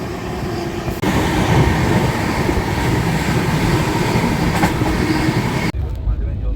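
A passenger train runs through the hills of Assam, a loud steady rumble and rattle of the carriages holding up close for several seconds before cutting off abruptly near the end.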